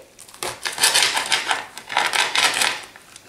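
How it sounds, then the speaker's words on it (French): A knife slices at an angle through a crisp fried spring roll stuffed with filling, giving a close, crunchy crackle in bursts of rough crunches over about three seconds. "Alors, on va le couper en biais."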